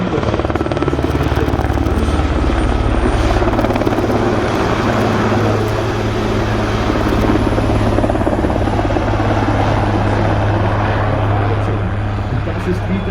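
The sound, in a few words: helicopter flying at an airshow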